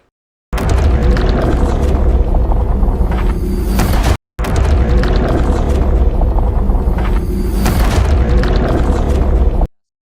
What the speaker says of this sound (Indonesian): Kovalov yang tak mau menyerah langsung mengaktifkan senjata ultrasonik yang sangat berbahaya itu